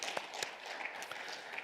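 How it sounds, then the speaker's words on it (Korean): Scattered hand clapping from a church congregation during a worship service, with a few sharper claps standing out over a steady wash of applause. "영광의 박수 주님께 올려드립니다"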